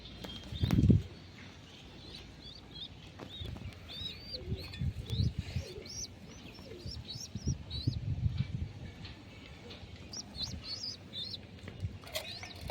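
Pigeons at a coop being fed chickpeas, soft cooing and scattered chirps running throughout at moderate distance, with a brief burst of wing flapping or handling noise near the start.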